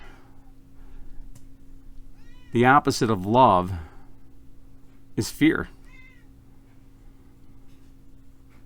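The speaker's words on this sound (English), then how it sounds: "What are you meowing at?" A cat meows twice, a drawn-out wavering cry then a shorter one, close and clear, with a person speaking softly nearby over a low hum.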